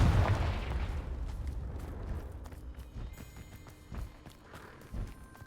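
A Confringo blasting spell bursts with a loud, deep boom in the Hogwarts Legacy video game, then rumbles and fades over several seconds with scattered smaller impacts and footstep-like thuds.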